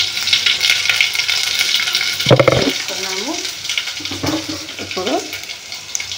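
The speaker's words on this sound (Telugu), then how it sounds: "ఇది బాగా వేగాల్సిన అవసరం లేదు, కొంచెం వేగితే సరిపోతాయి" Bitter gourd pieces with turmeric frying in a pan, a continuous close hiss and sizzle broken by a couple of stirring clatters, with a voice speaking briefly over it.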